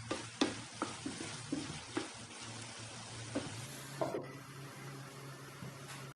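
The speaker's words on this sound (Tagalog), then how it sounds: "Medyo na-fry na siya." Bitter gourd (ampalaya) frying in a pan for ginataang ampalaya, a soft steady sizzle with a few stirring scrapes and clicks, heard close and fairly quiet.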